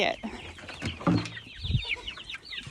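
Several roosters cluck and mutter close by in short, overlapping bursts.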